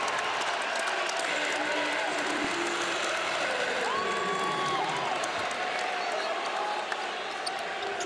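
Basketball arena crowd in Fort Collins roaring and cheering after a slam dunk at a college game, a loud sustained wash of cheers with whistles and squeaking shoes beneath, while a commentator talks over it.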